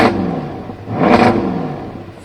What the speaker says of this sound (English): There's a special exhaust with flaps in it.